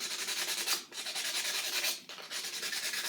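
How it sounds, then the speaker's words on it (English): A farm egg rubbed with fine 220 grit sandpaper to remove dirt, with three close, quiet back-and-forth scratchy strokes in steady rhythm. "So you can take your egg and just take your sandpaper,"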